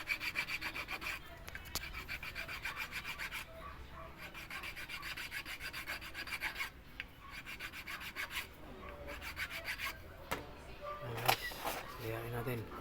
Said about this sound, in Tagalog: ay kinisin natin pamamagitan ng kikil para gumanda